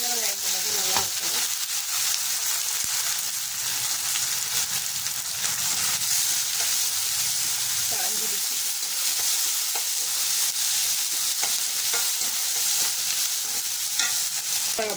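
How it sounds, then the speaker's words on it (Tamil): Dried red chillies and small onions sautéing in a pan, a continuous close sizzle with the scrape and clatter of stirring throughout, and a faint voice now and then under the frying. "வரமிளகா, சின்ன வெங்காயம் போட்டு நல்லா வதக்கிக்கிட்டு"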